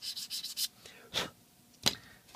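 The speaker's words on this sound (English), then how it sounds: "Just sanding over that." Short, dry strokes of sandpaper rubbing a small plastic Gundam model part: a quick flurry of light passes, then two separate slower strokes, close up and quiet.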